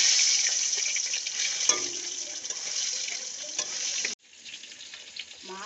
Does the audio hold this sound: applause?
no